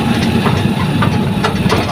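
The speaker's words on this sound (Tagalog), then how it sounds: "Sobrang traffic dito sa umaga." Engines idle in heavy morning traffic on a congested street, forming a dense, steady low rumble that holds at a constant level throughout with no clear pauses.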